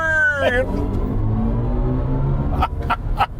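A BMW i4 M50 electric motor gives a rising, moaning whine that climbs in pitch while accelerating, with road rumble underneath and brief clicks near the end.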